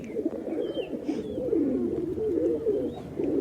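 Pigeons coo close by in continuous, low, throaty rolling calls, with a few faint higher chirps in the background and no talking.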